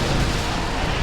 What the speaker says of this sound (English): Let's actually see if we can get an artillery strike in here too.